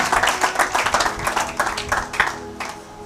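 A church congregation claps together in a lively, fairly quick rhythm, the applause steady and close before it thins out at the end.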